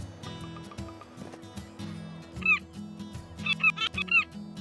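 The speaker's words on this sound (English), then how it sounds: "Seagull." Seagulls call in the video game Tiny Bookshop, a few short squawking cries heard over a gentle looping musical background.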